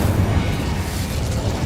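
Incendio, a fire spell in Hogwarts Legacy, roars as a loud, continuous, rumbling burst of flame that keeps a thick, low, steady intensity throughout, with no one talking.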